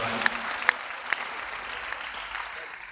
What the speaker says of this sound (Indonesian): Tepuk tangan yang baik